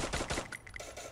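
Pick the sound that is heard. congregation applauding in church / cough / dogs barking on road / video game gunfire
video game gunfire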